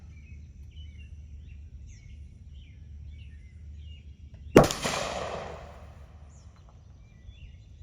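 A single sharp rifle shot from a Westley Richards Model 1871 Improved Martini, loud and close with a reverberating tail outdoors, while birds chirp faintly in the background before and after.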